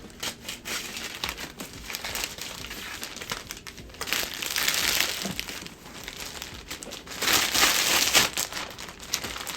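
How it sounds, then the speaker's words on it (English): Plastic wrap crinkles and crackles while a tech package is unboxed and cut open with scissors, a near, continuous rustling with louder bursts of crumpling, and no talking. "I hope they don't expect me to send it back in this plastic wrap thing because I already destroyed it with my scissors"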